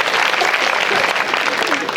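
Audience clapping at a Marathi comedy game show, loud and close, a dense continuous burst of many hands with a little voice mixed in.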